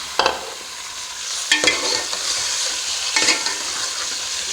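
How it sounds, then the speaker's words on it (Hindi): Chicken frying in a karahi with onion, whole spices and dried red chillies for green chicken karahi. A close, steady sizzle runs throughout, broken by three louder scraping stirs near the start, middle and end. "हम इसको प्याज के साथ और खड़े मसाले के साथ हम इसको अच्छी तरीके से फ्राई करेंगे"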